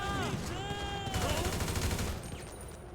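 Grand Theft Auto V game gunfire rattles off in rapid bursts of automatic shots, dense and sustained, with whistling tones and effects layered over the shooting before it tails off.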